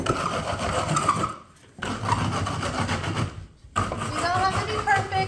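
A handheld wallpaper remover tool scrapes and roughs up the wooden surface of a bee box in repeated rasping strokes, close and fairly loud, with two short pauses between passes.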